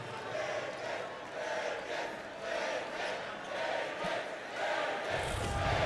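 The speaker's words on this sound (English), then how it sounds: "Crowd chanting bacon" Basketball crowd chanting "bacon" in rhythmic waves at a Delaware State vs. Virginia Tech men's college game, a steady roar of many voices rising and falling in repeated bursts, louder near the end.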